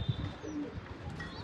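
A Sargapuri pigeon that has returned home after two months coos close by, a soft low-pitched burble with a couple of brief pulses, set against light background noise.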